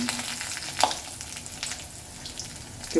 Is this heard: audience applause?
no